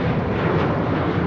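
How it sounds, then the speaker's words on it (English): Boeing 737-800 airliner taking off at LAX, a loud continuous roar of jet engines with a dense low rumble and no other sounds. "taking off to Portland on a 737-800"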